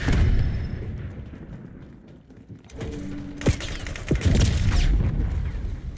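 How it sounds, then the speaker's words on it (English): A Semtex grenade in Black Ops 6 multiplayer: mechanical clicks and a creak, then a sharp explosive burst followed by more blasts and rumbling gunfire in a loud, busy game mix. "Tossing Semtex grenade."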